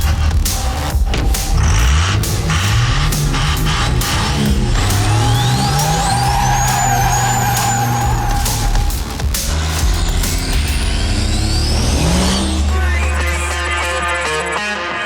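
A custom Ford Mustang known as the Smokestang revs loudly and close, its engine rising and falling through repeated throttle blips and sustained pulls, with a whining whir over the deep rumble throughout.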